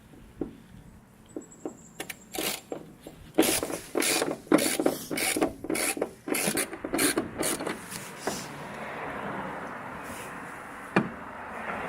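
A wrench works loose the seized, partly stripped trunk strut bolts on a Nissan 350Z, giving a close series of sharp metallic clicks and ratcheting scrapes in irregular bursts, alone without talk.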